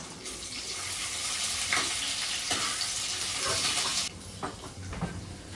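Green chilies sizzling and frying in a pan with crushed ginger and garlic, a steady loud crackle with occasional stirring clinks, easing slightly near the end.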